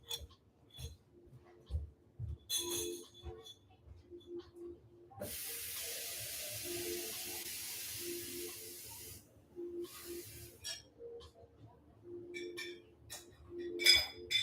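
Scattered glassy clinks and light handling knocks, then about four seconds of steady hissing running water filling a glass, followed by more clinks and clatter, close by and with no talking.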